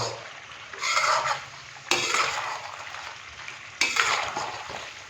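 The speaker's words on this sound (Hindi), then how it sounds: "तो ऑयल के साथ अभी मैं अफगानी बीफ कढ़ाई को तकरीबन 4 से 5 मिनट अच्छे से कुक कर लूँ" Beef karahi sizzles in oil in a wok, a steady frying hiss with three bursts of stirring and scraping spaced a second or two apart.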